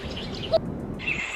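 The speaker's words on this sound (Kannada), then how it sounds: "ಹಕ್ಕಿಗಳ ಕಲರವ ಕೇಳಿಸ್ತಾ ಇದೆ ಅಲ್ವಾ ನಿಮಗೆ" Bright, high chirps from birds, a short burst near the start and more calls toward the end, heard over a low, steady background.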